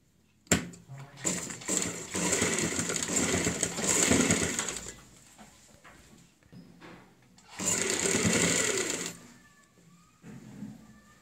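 A sewing machine stitches the buckram collar of a kurti in several close, whirring runs of a few seconds each, separated by pauses with soft handling noises.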